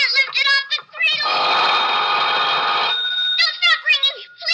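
An old telephone rings in a 1950s radio drama, one long sustained bell ring between stretches of a man's anxious speech before and after.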